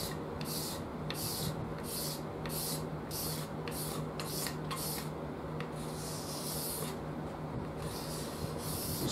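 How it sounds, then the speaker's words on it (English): Light scraping of surface glue from a bass guitar fretboard on an ultra short scale build, heard as a steady rhythmic series of soft, close rasping strokes over a constant low hum. "Scrape. Very lightly as well."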